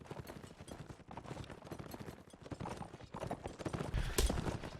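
Horse hooves clip-clop in a rapid galloping rhythm during a competitive medieval video game match, fairly faint and continuous, with a brief louder thump near the end.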